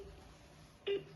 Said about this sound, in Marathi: आता मम्मी फोन लावलोय